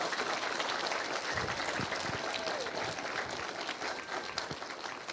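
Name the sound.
audience applause for family members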